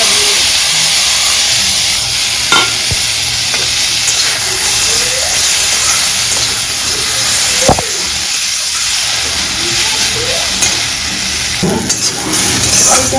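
Bitter gourd and pumpkin fry in a pan with a steady, close, unbroken hiss, a few faint clicks and taps scattered through it.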